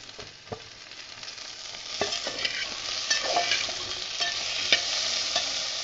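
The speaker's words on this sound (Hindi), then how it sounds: "बैंगन और हरी मिर्चों को 1 मिनट फ्राई करना है" Brinjal and green chillies frying in a pan for a chutney, with a continuous close sizzle and occasional sharp scrapes and clinks of a stirring spoon, no voices.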